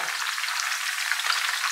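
Garlic frying in hot oil, a dense steady sizzle close up and fairly loud, heard alone.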